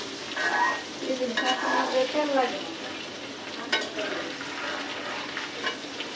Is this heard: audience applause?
no